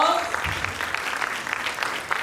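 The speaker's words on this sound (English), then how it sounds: "Bigger round of applause." Dense applause from an audience at a sickle cell foundation event, steady clapping with faint overlapping voices beneath it.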